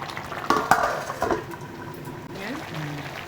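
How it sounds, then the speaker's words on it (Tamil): Scraping and clinking of a spoon stirring rice in a pot of mutton biryani, a few sharp knocks early on, with soft background noise and bubbling. "அரிசி உடையாமல் எப்படி கிண்டி கொடுங்க"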